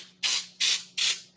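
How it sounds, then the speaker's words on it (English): Three short, forceful hisses of aerosol cooking spray onto a muffin pan, evenly spaced and close up, with brief quiet gaps between them. "I'm just spraying it really good with a baking pan."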